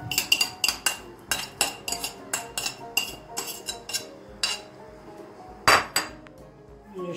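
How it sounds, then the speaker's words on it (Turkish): A spoon mixes tomato, pepper and tomato paste lahmacun filling in a bowl, giving a rapid, rhythmic series of close clinks and scrapes that slow briefly, with one louder knock near the end. "şunları güzelce böyle bir karıştırıp yedirelim"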